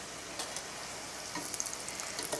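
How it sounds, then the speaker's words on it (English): Steady, quiet sizzling of tortillas frying in hot oil, with small crackles and pops scattered throughout. "it's gonna sizzle when I stick a tortilla in it, and it's sizzling"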